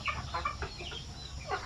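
Chickens cluck softly on a poultry farm during the rainy season, faint short calls scattered over steady background noise.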